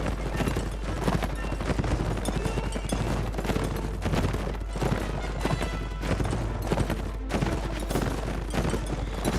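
Horses gallop across a battlefield in the video game Mount and Blade Warband, their rapid clip-clopping hooves running continuously amid a dense din of battle with crackling bursts like gunfire.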